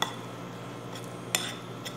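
A utensil mixes shrimp ball mixture and breadcrumbs in a bowl, giving soft stirring with a few light clinks against the bowl's side; the clinks are quiet and spaced apart.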